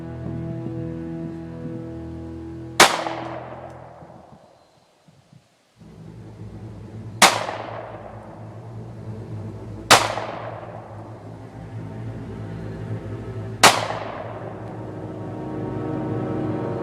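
Pistol shots at an outdoor shooting range, four sharp loud single reports spaced several seconds apart, each followed by a fading echo over a low background hum.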